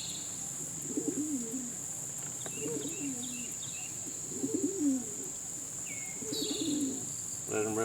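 Pigeons coo near their coop during recall training, giving four soft, rolling coos spaced about two seconds apart over a steady high insect-like drone and faint background chirps.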